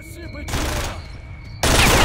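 Bursts of gunfire crack out in STALKER: Shadow of Chernobyl, two loud, close volleys of rapid shots separated by a short lull with faint echoes.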